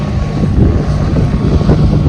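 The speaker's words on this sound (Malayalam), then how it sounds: "അതാണ് മീൻ പിടിച്ചു വരുന്ന ബോട്ട്" A fishing boat races through sea waves off a beach, its engine rumble mixed with rushing water and wind buffeting, loud and close throughout.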